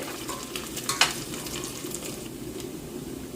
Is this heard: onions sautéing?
yes